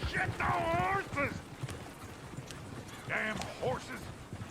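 Horses galloping through the town of Valentine in Red Dead Redemption 2, hoofbeats and horse calls mixing with loud shouting voices over a busy street ambience.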